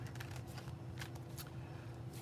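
Tarot cards are riffled together in a bridge shuffle, a rapid fluttering of card edges at close range over a low steady hum, with no talking.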